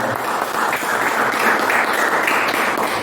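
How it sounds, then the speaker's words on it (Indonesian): Audience at a school history olympiad event applauding, a loud, full burst of many hands clapping together, steady and sustained across the whole stretch. "Kita berikan aplaus yang meriah."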